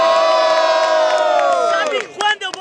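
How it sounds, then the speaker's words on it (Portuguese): A crowd at the grand final of the 120th Batalha dos Estudantes rap battle cheers and shouts loudly, a sustained roar of voices that swells and then breaks into scattered whoops near the end. "Diferentemente, barulhos, barulhos pra quem gostou das rimas do Nere"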